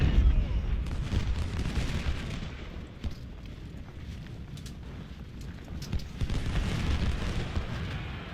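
Civil War battle in Ultimate General: Civil War during a supply raid, with continuous rolling musket volleys and booming artillery fire in dense overlapping bursts, loud and sustained.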